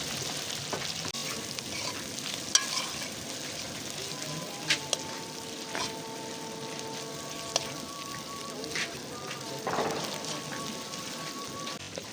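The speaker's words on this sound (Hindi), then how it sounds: "चम्मच को ज़रा हिलाते रहेंगे कि हमारे प्रॉन्स जो हैं कढ़ाई के साथ चिपके ना।" Prawns fry with a spoonful of garlic-ginger paste in a kadai, giving a steady close sizzle and crackle. A spoon scrapes and stirs now and then with brief clinks against the metal pan.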